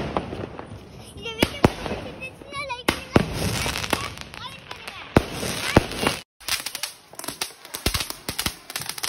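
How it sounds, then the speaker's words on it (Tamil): Diwali firecrackers burst in sharp, loud cracks and pops at a home celebration, irregular and close, with people talking between the blasts. "கயல் குட்டி வந்து பட்டாசுனா ரொம்பவே பயப்படுவா."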